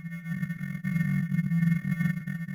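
A tone runs through the VolBot stochastic amplitude effect with the left and right channels out of phase, giving a steady sustained buzz whose loudness wobbles irregularly and sounds dissonant.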